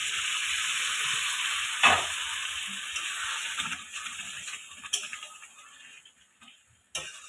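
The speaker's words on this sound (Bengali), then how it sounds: "এর মধ্যে এখন দিয়ে দেবো এই সিদ্ধ ডাল" Boiled dal goes into a frying katla fish head masala, and a loud hiss and sizzle fades gradually as the liquid settles, broken by a few clinks of a spoon against the pan.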